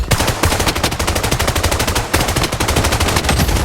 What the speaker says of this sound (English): Somebody shooting at the top, so now I'm looking over here.